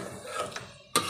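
Beef browning in a pot for degi biryani with ginger-garlic paste and onions, a few soft scrapes of stirring and faint background noise, ending in one sharp clank of a spoon against the metal pot.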